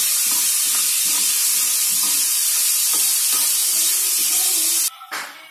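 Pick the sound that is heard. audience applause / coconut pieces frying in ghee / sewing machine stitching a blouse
coconut pieces frying in ghee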